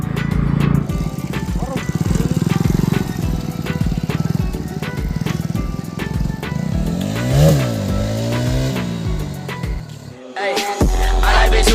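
Evening road traffic heard from a moving motorbike: a loud engine drone with passing vehicles, a horn-like rising and falling tone midway, and someone talking over the noise.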